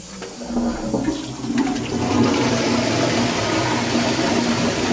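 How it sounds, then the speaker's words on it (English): A Twyfords Civic toilet flushes with a loud, continuous rush of water that swells after the first second and holds steady, with a faint sputtering quality and no voices. "Give it another flush."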